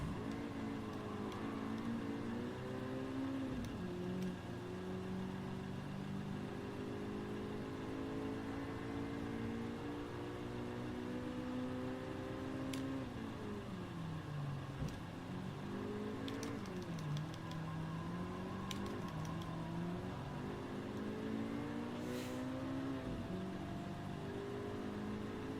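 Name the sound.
car engine revving while driving in Gran Turismo 7 video game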